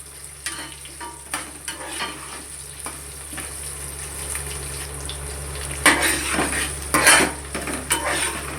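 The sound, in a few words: stirring onions frying in a pan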